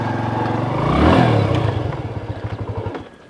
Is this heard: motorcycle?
yes